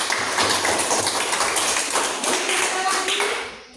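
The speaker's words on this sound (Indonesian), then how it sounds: "Oke, tepuk tangan buat Jerry." A group of students in a classroom claps together, a close, busy patter of hand strikes that ends abruptly.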